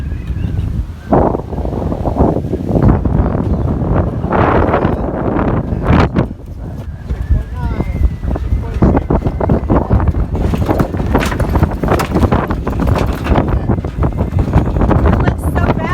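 Gusty wind buffets a sailboat, loud rushing and microphone-battering blasts coming in irregular bursts, with rustling and flapping sounds mixed in and brief voices in the background.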